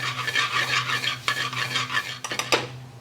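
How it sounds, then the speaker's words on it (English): Lamb pieces, two chopped green chilies and tomato wedges stirred in a pan over medium gas, a spoon scraping and clattering against the metal in steady strokes, with a few sharper clinks near the end. "Give that a mix and just let it cook on a medium gas."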